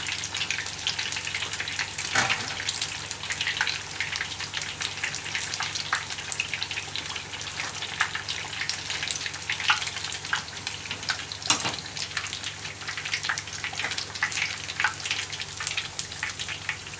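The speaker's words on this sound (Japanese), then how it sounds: "温度が少し上がったところで揚げていきます。" Tilapia fish fry in hot oil, giving a steady dense sizzle with crackling pops throughout and no talking.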